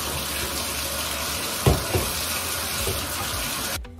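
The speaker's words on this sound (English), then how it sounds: "rinsing it off in the bathtub after it's done" Tap water running steadily into a bathtub while a bird cage is rinsed, a close broadband rush with a couple of brief knocks, cutting off abruptly at the end.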